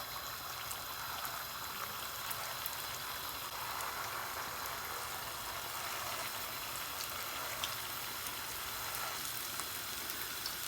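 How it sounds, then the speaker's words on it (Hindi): Potato koftas fry in hot oil in a pan on medium flame, producing a continuous dense bubbling sizzle, even and unbroken throughout, with no one speaking. "कोफ्तों को फ्राई करने के लिए मैंने पैन के अंदर ऑयल लेकर तो उसको गर्म होने के लिए रख दिया है।"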